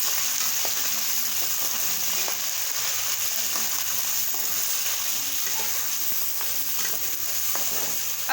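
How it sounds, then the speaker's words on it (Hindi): Beef frying in oil for a restaurant-style beef korma, a constant loud sizzle broken by repeated scraping stirs of a spoon against the pot. "अब जो है हम इसमें बीफ को ऐड करेंगे और बीफ को जो है वो फ्राई कर लेंगे।"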